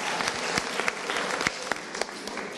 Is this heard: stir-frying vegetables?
no